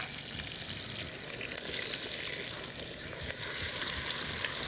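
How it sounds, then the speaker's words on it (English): Peppers and onions frying in a pan, a steady bright sizzle with soft stirring scrapes underneath, close and continuous with no talking. "And then go for the peppers. Give that a good stir."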